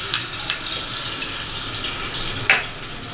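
Ginger garlic paste fries in half a cup of hot oil for Chinese rice, giving a steady soft sizzle with a few sharper spatula scrapes, close and alone without talk.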